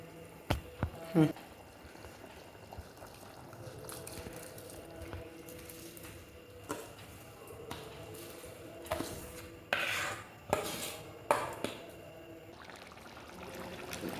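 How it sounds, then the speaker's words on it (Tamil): Rice for mutton biryani being stirred in a pot, with intermittent scraping and knocking of a spoon against the metal amid soft rustling and bubbling, a few sharper clinks standing out, no talk. "அடி பிடிச்சிடாம அரிசியை இப்படி ஒரு ரெண்டு மூணு தடவை கிண்டி விட வேண்டியிருக்கும்"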